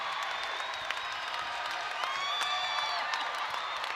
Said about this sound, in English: Listen to this crowd as Johnny McCants gets ready to exit